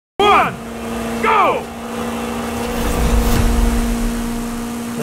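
Race car in a racing video game accelerating from a standing start, two quick rising engine revs with sharp gear-shift drops, then a sustained loud engine whine and a passing swoosh, close and prominent.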